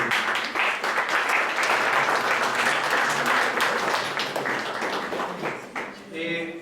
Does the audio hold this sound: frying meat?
no